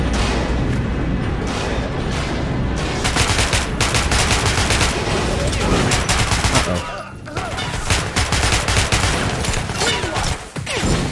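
Dense gunfire in the first-person shooter Metro: Last Light during a prison escape: loud rapid bursts of automatic fire and heavy booming shots, nearly continuous with brief gaps.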